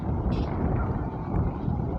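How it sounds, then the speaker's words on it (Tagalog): Steady, roaring typhoon wind buffets the microphone with a constant low rumble, gusting slightly but never letting up across the whole stretch. "Malakas pa ang hangin"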